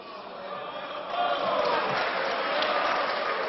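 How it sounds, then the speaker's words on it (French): Mixed applause and booing from deputies in the French National Assembly: a dense, steady roar of crowd noise that swells louder after about a second and holds through the rest. "Applaudissements à droite, huées à gauche."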